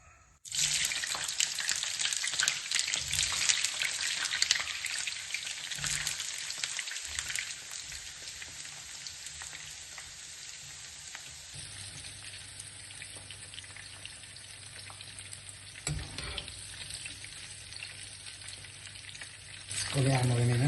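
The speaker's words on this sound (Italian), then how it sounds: "L'ho portato alla temperatura di 180 gradi e adesso friggo le melanzane" Eggplant pieces fry in oil heated to 180 degrees, giving a loud, steady crackling sizzle close by, with occasional stirring clatter and a change in tone partway through, and no voices.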